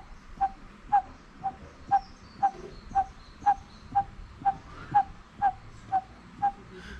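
A man whistles an imitation of the Malabar barbet's call: a series of evenly spaced, short, hollow notes, about two per second, repeated a dozen times against faint outdoor background.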